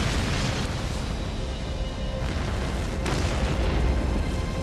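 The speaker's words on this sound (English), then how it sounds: "Then the fire reaches a large fuel canister. Windows are shattered and dozens of cars destroyed in the mammoth explosion." A large fuel canister at a gas station in Puchon, 1998, blows up in a massive blast, a loud continuous roar of explosion and fire with deep rumbling booms and a sharp burst partway through.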